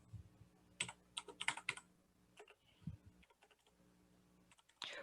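Keys on a computer keyboard being typed on in bursts, quick clusters of clicks with pauses between, close and fairly quiet.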